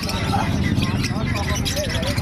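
Lovebirds and other birds chirping at a busy bird market in Bocaue, many small tweets and twitters mixed together under a loud, steady crowd hubbub with people talking nearby.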